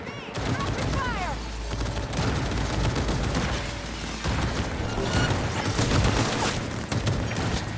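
Dense, sustained gunfire from the video game Cyberpunk, rapid machine-gun bursts and crashes rattling nonstop at close range, loud throughout, with a voice shouting over the shooting.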